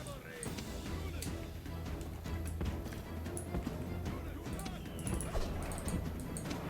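War dogs barking and yelping in a Rome: Total War battle, short barks scattered over a dense, continuous din of fighting troops and hooves.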